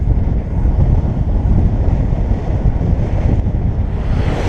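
A strong gust of wind roars across the microphone during a bicycle ride in Taiwan, a loud, dense, continuous buffeting rush with no voices.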